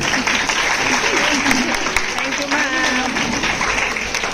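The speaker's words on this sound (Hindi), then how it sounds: "तो इनके लिए कितनी जोर से तालियां" Loud, continuous audience applause fills a hall at a women's empowerment gathering, dense steady clapping with crowd noise and some voices mixed in throughout.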